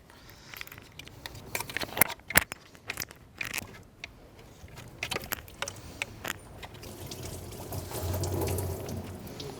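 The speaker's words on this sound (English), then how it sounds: "Now you're going to start seeing coolant starting to come down." Engine coolant drains from a disconnected hose line on a MK7 Volkswagen GTI during intake manifold removal, with scattered drips and splashes that build into a steady liquid trickle near the end.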